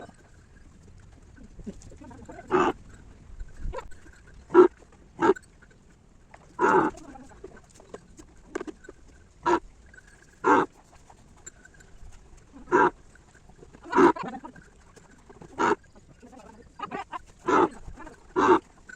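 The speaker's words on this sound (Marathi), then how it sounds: "तर आता आपण काढणार या गाईची धार" A cow stands in a shed during milking, with regular sharp bursts repeating every second or so over a quiet background, close and fairly loud.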